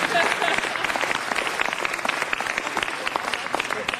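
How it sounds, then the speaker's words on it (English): Sustained audience applause fills a city council meeting chamber, dense steady clapping from many hands at close range, with a faint voice underneath. "And give her a round of applause."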